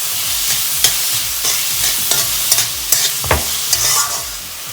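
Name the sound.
tomato and salt being stirred and cooked for vermicelli upma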